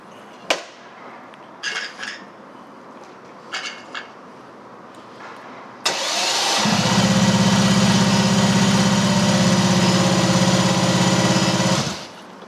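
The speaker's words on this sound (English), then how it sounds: "So I'll be spinning it up with the ignition off so it won't fire." Supercharged shed-built sprint bike engine spun over on the starter with the ignition off, a loud steady whirring crank lasting about six seconds after a few faint clicks and knocks, then cutting off abruptly.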